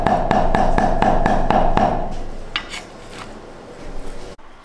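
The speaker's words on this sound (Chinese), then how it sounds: "先给它切片，然后再用刀给它剁成肉末" Knife mincing lean pork on a cutting board, eight fast, evenly spaced chops in a steady rhythm, close and crisp, then a few softer scraping taps as the chopping stops.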